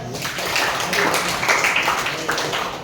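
A vocational high school class at SMKN 8 Jakarta breaks into applause, a close burst of many hands clapping that swells and fades over a few seconds, with voices mixed in.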